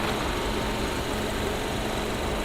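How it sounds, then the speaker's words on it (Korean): A Kia Soul 1.6 GDI engine idles steadily, a low even rumble with a broadband hiss over it, unchanging and close, with no talking. "엔진 소리도 일정합니다."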